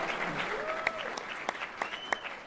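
Audience applause at a Wisconsin gay-straight alliance leadership event: a steady, dense wash of clapping hands with a few sharper individual claps standing out, moderately loud throughout.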